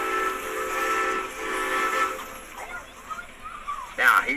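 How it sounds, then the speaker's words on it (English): An 18,000-pound steam traction engine vents steam with a loud, sustained hiss and whistle-like tones, while someone talks over it and a brief sharper burst comes near the end. "You'll notice he's releasing a little steam off."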